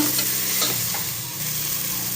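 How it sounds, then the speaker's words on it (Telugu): Chopped ingredients for tomato bath frying in a pan, a steady close sizzle with faint stirring scrapes throughout and no talking. "ఇక్కడైతే వేయించుకుంటున్నాను."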